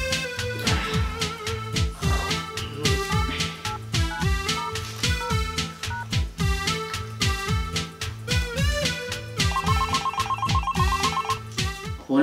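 An incoming call on a mobile phone rings with a busy, looping electronic ringtone melody, steady and fairly loud for the whole stretch, with a trilling ring pattern near the end and no talk over it.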